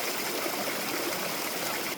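A cold Himalayan mountain stream rushes steadily nearby, a dense, even wash of flowing water with no talking or other sounds.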